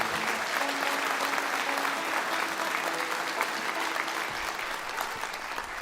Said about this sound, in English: How about a big round of applause for everyone who puts on this awesome show.